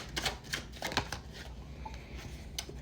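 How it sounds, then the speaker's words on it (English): Tarot cards being shuffled by hand in quick riffles and soft taps, close and fairly quiet, with brief pauses between bursts. "And final shuffle."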